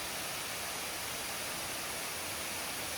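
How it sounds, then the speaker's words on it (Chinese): An artificial waterfall in a city at night gives a steady, broad rushing roar, constant and fairly close with no other sounds. "这里甚至还有一座人造瀑布。"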